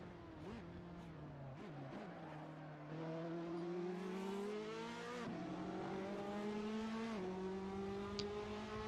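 A Ferrari race car in the driving game Assetto Corsa revs hard, its engine pitch climbing and dropping back in several gear-change steps, loud and continuous with no talking.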